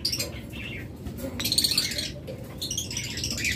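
Caged budgerigars, including double factor birds, chirp and chatter continuously in a dense, lively chorus close by.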